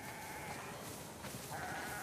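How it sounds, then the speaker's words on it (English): Sheep bleat on a farm in The Last of Us Part II, a few wavering calls rising over a steady background hiss, one near the start and another toward the end. "We definitely have way too many sheep."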